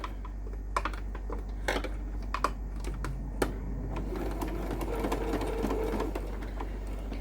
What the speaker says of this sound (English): I'm going to hold on to my thread, and then I'm just going to start stitching.